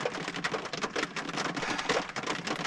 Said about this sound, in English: Still raining out there.